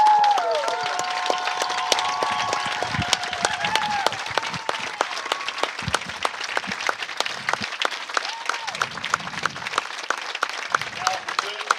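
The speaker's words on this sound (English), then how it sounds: "Please give a round of applause." A crowd at a high school football stadium on a Friday night applauds steadily with dense clapping throughout, a few cheers scattered over the sustained roar.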